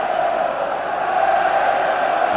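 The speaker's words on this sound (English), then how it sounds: "And listen to the cheering for Wales especially, but the big Scots contingent letting themselves be heard." Stadium crowd at a 1988 Five Nations rugby match between Wales and Scotland roaring and cheering in a steady, dense wall of noise that fills the whole stretch, with no clear gaps.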